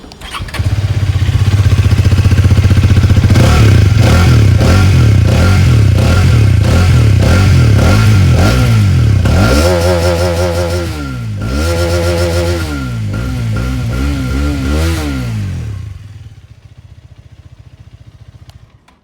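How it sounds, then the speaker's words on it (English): A yellow 2024 Hero Karizma XMR motorcycle starts up and idles with a steady thrum, then is revved repeatedly in rising and falling bursts, loud and close, before settling and cutting off near the end. "Now guys, it's time to fire up the motorcycle. Let's quickly listen to the exhaust sound"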